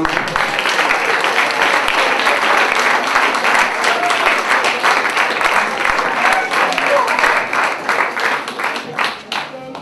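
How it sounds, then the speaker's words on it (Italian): A large audience at the Premio Gaber 2011 event in Catania gives the young performers a loud, sustained round of applause, dense clapping from many hands that thins slightly toward the end. "un applauso a tutti i ragazzi di Catania"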